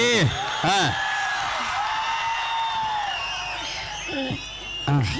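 College festival crowd at a stage event cheering and whooping, with applause and loud shouts rising and falling and voices calling out over the noise.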